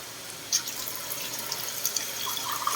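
A small amount of water poured into pork binagoongan as it cooks, a steady splashing trickle running close and fairly loud for a few seconds, with no talking.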